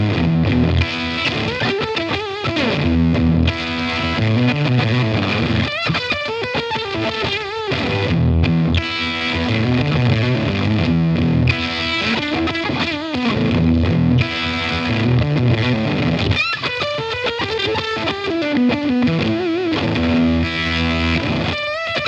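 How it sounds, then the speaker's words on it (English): Electric guitar on a single-coil bridge pickup plays through a Cooltone Range Booster pedal, a treble booster combined with a silicon fuzz, giving continuous distorted chords and riffs with short pauses and no talking. "there is the range booster from Cooltone Effects."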